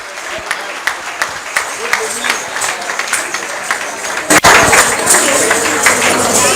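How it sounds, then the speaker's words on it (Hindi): An audience at the Mahesh Navmi Utsav 2022 community celebration applauds to welcome performers, a dense, steady wash of clapping that swells louder partway through and continues for several seconds. "जोरदार तालियों से इनका स्वागत हो जाए।"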